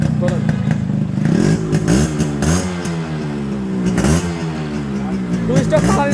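A Yamaha RX 100 motorcycle engine revs up and down several times at close range, its rising and falling two-stroke whine dominating, with a voice speaking over it.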